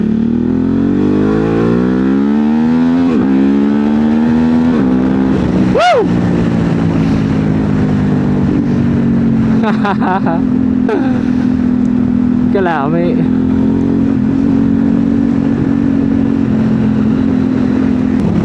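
A new adventure motorcycle's engine idles and revs with a loud, steady, throbbing drone that climbs in pitch at the start, while people talk over it close by.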